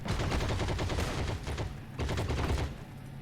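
An MG42 machine gun in the game Heroes and Generals fires two long, fast-rattling bursts, loud and close, with a short gap between them.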